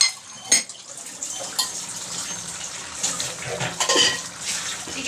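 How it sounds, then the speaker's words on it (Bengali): Dishes are scrubbed and rinsed under running water in a home kitchen, with close clinks and knocks of pots, plates and cutlery over a steady trickle, no voices. "হতে হতে আমার কিছু এখানে বাসন জমেছিল, সেগুলো আমি মেজে ধুয়ে নিচ্ছি।"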